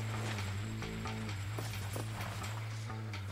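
Horse hooves clip-clop steadily at a walking-to-trotting pace in Red Dead Redemption, close and clear with faint background game ambience and no talk.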